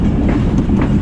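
The Mehr Express passenger train approaches Kundian Junction on Pakistan's ML2 line, giving off a brief, steady rumbling roll of wheels and carriages with wind noise and no talk.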